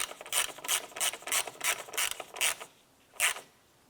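A ratchet wrench tightens a bolt on the front bumper cover of a 2005-2007 Ford Five Hundred, giving about eight short, evenly spaced bursts of clicking, then a pause and one last burst, close and fairly quiet.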